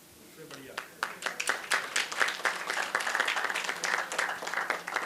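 An audience at a Sanatan Dharma religious programme breaks into applause. Scattered claps swell into dense, sustained clapping close by.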